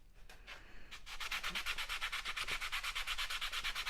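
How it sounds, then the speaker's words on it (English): Tape being rubbed briskly onto model airplane wings for a SIG Super Chipmunk build, a fast rhythmic scrubbing friction that starts hesitantly then settles into a steady, close, even back-and-forth stroke. "you want to rub them a little bit to get hot"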